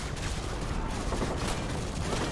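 Dense game gunfire from Call of Duty Modern Warfare 2, a steady, loud wash of rapid shots and bursts running through the whole moment with no clear gaps.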